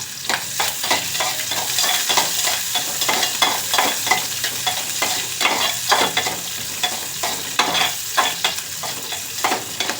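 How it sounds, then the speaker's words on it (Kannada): Legumes tempering in a small amount of hot oil for vegetable fried rice, giving a steady close sizzle and crackle with frequent scraping stirs of a spoon in the pan, no talking. "ಕಾಳು ಒಗ್ಗರಣೆ ಹಾಕ್ತೀನಿ"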